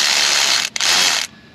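A ratchet wrench spins out a timing belt tensioner bolt on a car engine, a loud, fast clicking whir that pauses briefly, resumes, then stops abruptly.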